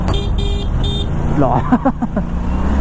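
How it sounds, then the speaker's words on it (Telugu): An Aprilia RS 457 motorcycle horn gives several short, high, buzzy toots, then a quick warbling run of beeps, close and loud over the idling engine. "దీని హార్న్ ఎంత కామెడీగా ఉంది చూడండి"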